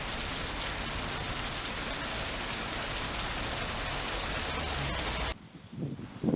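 Steady rain falls by the Meuse river in the Ardennes, a dense, even hiss of drops on surfaces that stops abruptly near the end, leaving quieter rustling.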